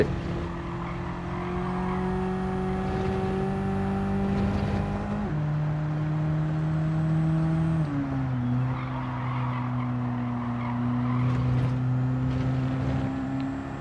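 Fiat 500 racing around the Ascari circuit in Gran Turismo 7, its small engine droning steadily with a strong tonal whine that drops in pitch at each upshift, held close and loud throughout.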